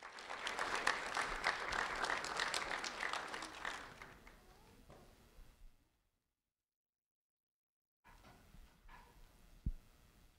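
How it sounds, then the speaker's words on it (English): An audience at an award ceremony applauds a fifth-grade student receiving his award, moderate clapping that fades out over several seconds, then silence, then faint scattered room sounds with a brief thump. "Let's have a round of applause for Dylan Helms"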